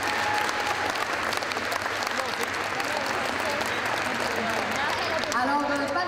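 An audience at a Comic-Con masquerade applauds costume contestants, dense steady clapping from a large crowd throughout, with a voice heard over it.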